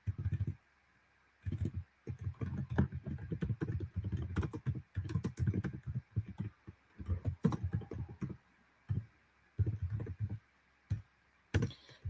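Rapid bursts of typing on a computer keyboard, clicks arriving in uneven clusters separated by short pauses, close and fairly clear with no talk.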